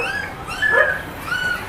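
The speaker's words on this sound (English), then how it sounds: "the poor puppy is there walking" A small stray puppy whimpers in a few thin, high, rising whines, close by and plaintive, with no talk heard.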